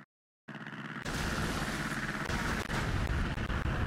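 Naval shells fire and land in a warship battle game, with a dense, continuous rumble of distant booming impacts and gunfire that swells after a brief silence at the start.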